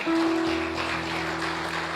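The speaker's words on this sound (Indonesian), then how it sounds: "tepuk tangan buat Tuhan" A church congregation applauds during a sermon: a soft, continuous wash of clapping under a sustained keyboard chord that holds throughout.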